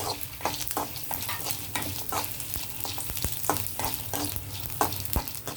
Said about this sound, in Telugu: జీలకర్ర ధనియాలు కొంచెం వేగాయి కదా